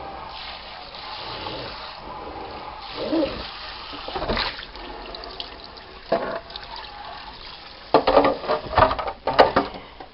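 Hot tap water runs steadily while an object handled at a reptile expo is rinsed under it, with splashing bursts and louder spatters near the end.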